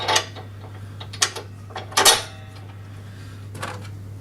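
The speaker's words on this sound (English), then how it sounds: "Then fit the bolts through the bottom hole from the outside in" Bolts being fitted into a Hyundai HYM460SPE lawn mower during assembly, a few light metallic clinks and taps at irregular moments over a faint steady hum, close to the listener.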